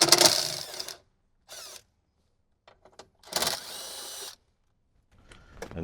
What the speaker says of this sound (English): grab our 10mm socket, remove the two 10mm holding the blocker plate on